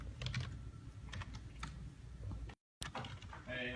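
Rapid computer keyboard typing, close and steady with clustered keystrokes, briefly cut by a short dropout before resuming with a brighter burst near the end.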